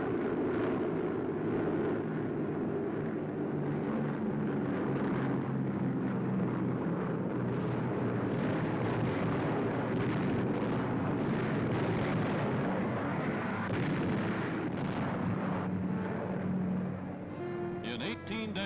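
Wartime newsreel sound of Allied WWII bombing raids on fortified Italian Mediterranean islands such as Pantelleria: a dense, continuous roar of explosions and aircraft drone with rumbling blasts throughout and a brief rattling burst near the end.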